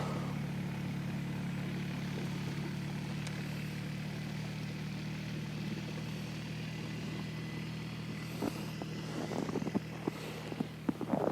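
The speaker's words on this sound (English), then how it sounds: "as you can see, the four-wheeler is doing a good job, and it's getting the job done" Steady low engine drone from a four-wheeler plowing snow runs throughout, with a few sharp scraping clatters of the plow toward the end.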